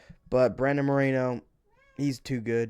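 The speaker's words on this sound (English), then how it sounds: "That's my cat." A house cat meows loudly and close in one long drawn-out call, then someone speaks briefly in an indoor room.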